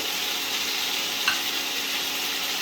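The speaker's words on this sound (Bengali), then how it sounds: "এর মধ্যে সবজিটা মিশিয়ে দিতে হবে" Mixed vegetables are stirred in a hot frying pan, giving a constant, close hiss of sizzling oil with a soft scrape of the spatula partway through.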